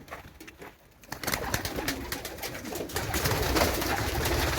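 Mardin breeding pigeons in a coop, soft close coos and rustling growing steadily busier and louder, with no speech.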